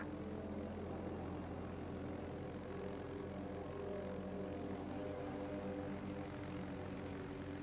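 A fighter plane launches from a Soviet aircraft carrier in World of Warships, a steady propeller engine drone held at moderate distance throughout, with no talk.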